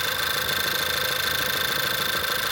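A car engine idling smoothly, a steady even hum with a faint rhythmic pulse and a high whine, unchanging and alone.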